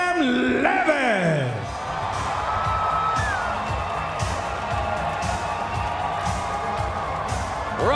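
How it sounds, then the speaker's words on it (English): A partisan crowd at a GLORY 21 kickboxing event roars and cheers for fighter Artem Levin's entrance, a dense, continuous wash of noise with whoops. An announcer's amplified voice rises over it at the start. "Raucous reception from the partisan crowd"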